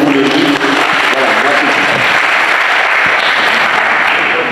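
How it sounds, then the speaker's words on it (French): Crowd of party militants applauding their PDCI-RDA president at a political rally, a dense, steady wash of clapping and cheering held at full loudness throughout, with voices mixed into the noise. "Acclamez votre président"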